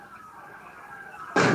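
A cannon fires during a pirate battle scene in a film, one sudden loud boom bursting in at the end after a quiet stretch.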